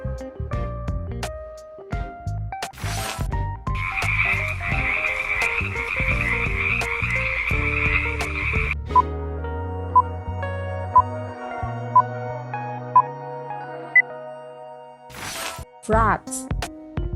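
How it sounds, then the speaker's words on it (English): Frogs croak in a dense, loud chorus of rapid rhythmic calls in the middle stretch, framed by other brief sounds at the start and end. "Frogs."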